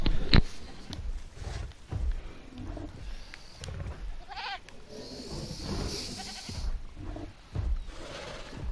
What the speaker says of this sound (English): That's a lot of goats